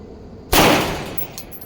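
A single sharp, loud shot from an IWI Zion 25 rifle in .308 loaded with old lacquered Russian ammunition, a sudden blast that rings out and slowly fades over the next second.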